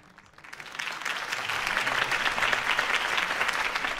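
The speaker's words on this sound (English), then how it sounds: "could have heard that applause" A crowd in the Batman Vengeance video game breaks into applause after Harvey Dent's mayoral campaign speech, starting softly and swelling into dense, sustained clapping with no talk.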